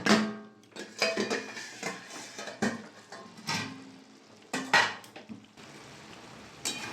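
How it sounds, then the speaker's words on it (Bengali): A metal lid comes off a pot of banana-flower ghonto with prawns, making a series of close clanks, knocks and scrapes of cookware in irregular bursts with quiet gaps between. "দশ মিনিট হয়ে গেছে ঢাকাটা খুলে নেব"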